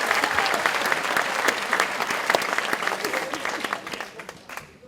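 Loud, dense applause from the audience at a French political meeting, sustained for about five seconds and fading slightly toward the end, with crowd noise and voices mixed in.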